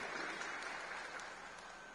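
At a public district dialogue event in Mahasamund, a crowd gives a round of applause honoring a former legislator, a short, even wash of distant clapping.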